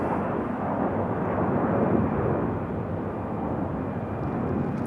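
A Delta Connection airliner at Raleigh-Durham International Airport, a steady, broad jet roar held at a constant level throughout, somewhat distant and with no talking.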